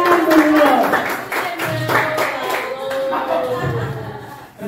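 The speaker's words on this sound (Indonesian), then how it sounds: "tepuk tangan dulu." Scattered hand clapping from a small group of teachers in a training session rings out under a continuous voice talking, with some background murmur throughout.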